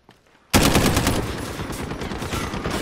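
Sustained automatic gunfire from the video game Call of Duty Modern Warfare, a gunfight match, bursting in loud and close after half a second of near silence and rattling on continuously to the end.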